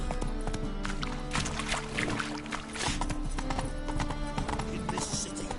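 A horse gallops with steady, rapid clip-clop hoofbeats in the video game Witcher 3, the rhythm continuous and fairly close over a dense game soundscape.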